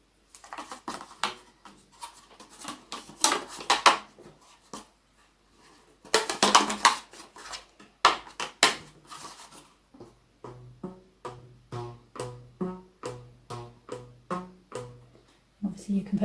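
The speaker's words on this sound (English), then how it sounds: "The other way of using our elastic bands is with something like a margarine tub, and just wrap them round." Elastic bands stretched around a margarine tub as a homemade instrument, plucked in a quick run of short twangy pitched notes near the end, after a stretch of handling noises and rustling.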